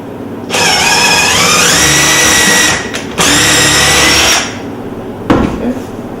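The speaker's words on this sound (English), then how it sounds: "Drill it." A power drill bores a hole for cabinet hardware through a homemade template, its motor whining up in two loud bursts with a short pause between, then a brief clack at the end.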